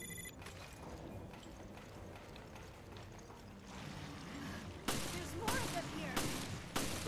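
Sharp gunshots from the video game Resident Evil Revelations punctuate the latter part, several loud separate bursts standing out over a steady background of game ambience and low talk.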